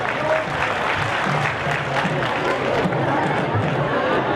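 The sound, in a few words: crowd applauding at a wedding event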